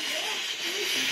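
A pressure cooker cooking an older chicken lets out a continuous, fairly loud steam hiss for about a second, steady and close.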